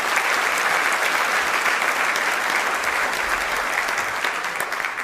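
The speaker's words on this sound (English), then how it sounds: "Let's give that a round of applause itself." Sustained, dense applause from a large audience at an evening teacher of the year award presentation, a steady full wash of clapping that holds evenly throughout.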